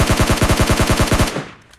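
Gunfire in PUBG Mobile Lite: a loud, rapid burst of about a dozen evenly spaced automatic shots, ending abruptly and trailing off into a short fading echo.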